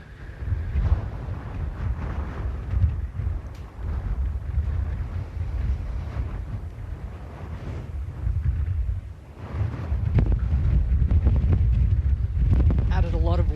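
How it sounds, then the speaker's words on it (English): Gusting wind on a links golf course at the Open Championship, a continuous low buffeting rumble against the microphone that swells and surges, strongest near the end. "The wind is a factor here."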